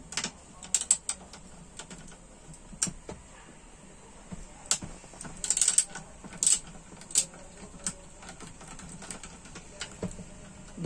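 Metal wrench or socket work on the two 8 mm bolts of a gearbox cover on an FM 420 BS6 tractor: irregular small clicks and ratcheting taps scattered across the span, close and fairly sharp over a quiet background, no talk.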